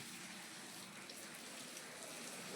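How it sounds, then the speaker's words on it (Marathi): Steady rain hisses faintly and evenly throughout, a soft continuous wash with no voices. "बाहेर दाखवते की पाऊस सुरू झाले"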